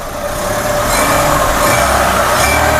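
A petrol car engine that can run on E20 fuel, in a used car for sale, runs steadily and loudly up close with a constant idling hum and no knocking.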